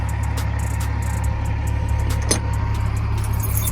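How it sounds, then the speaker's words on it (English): Keys jangle briefly in a hand beside a Peterbilt 379 truck idling nearby in Texas, with a steady low engine rumble running underneath the whole time. "Get our llaves, our keys."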